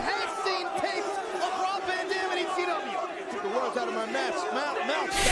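A hostile crowd of thousands at a wrestling event shouts at John Cena. Their jeering roar is a steady, fairly distant wall of overlapping voices.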